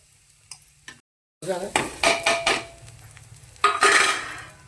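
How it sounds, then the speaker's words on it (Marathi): Onion and spice masala roasting in a pan for a village-style fish curry: a few light clinks, a brief silence, then a run of close, loud spoon scrapes and stirs over a soft sizzle. "असा मसाला भाजून घेते मी"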